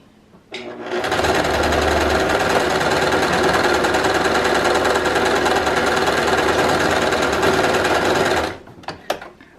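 A sewing machine stitches the seam of a fabric face mask, backstitching to lock the thread: a steady, loud, continuous mechanical whirr running about eight seconds, then stopping with a few small clicks.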